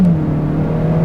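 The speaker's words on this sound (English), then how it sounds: "Downshift, then it takes off." A 2018 Hyundai Elantra GT Sport with a 1.6-liter turbocharged four-cylinder pulls hard after a downshift, a loud, steady engine drone heard from inside the car.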